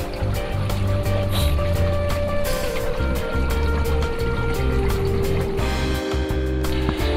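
Water runs and splashes continuously into a freshwater lobster tank, a steady close rushing and trickling sound with no talk.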